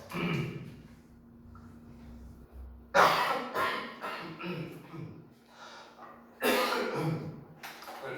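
Two sharp coughs cut through during an English lesson, each followed by throaty breathing and rasping, with quiet vocal sounds between them.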